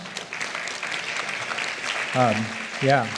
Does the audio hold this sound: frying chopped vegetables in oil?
no